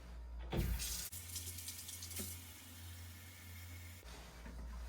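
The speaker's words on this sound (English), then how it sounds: "First, I am going to fill this with warm water." Kitchen tap running steadily as it fills a bowl with warm water, a continuous close splashing rush that stops abruptly near the end.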